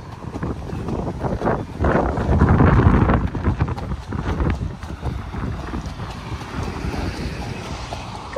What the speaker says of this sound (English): Oh Lord, it is windy.